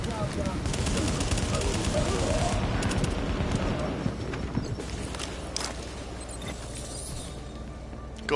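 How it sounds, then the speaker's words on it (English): Sustained automatic gunfire in The Division video game, aimed at a yellow tank: a dense, fast rattle of shots fills the first half, then thins into scattered cracks against steady background noise. "Trying to shoot that yellow tank and it ain't working."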